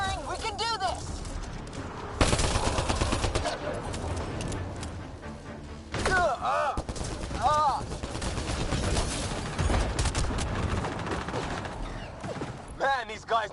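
Rapid sci-fi gunfire and explosions from the video game Mass Effect, dense overlapping bursts that keep pounding close and loud, with voices shouting over the fight.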